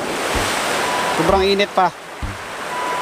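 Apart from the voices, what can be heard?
strong water current flowing into fish pond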